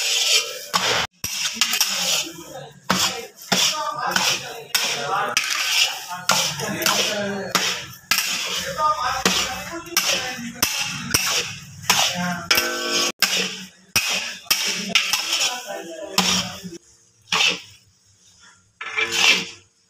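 Metal spoon scraping and clattering against a pot as cheerh halwa made with sugar and khoya is stirred continuously, irregular close taps and scrapes repeating throughout with short pauses.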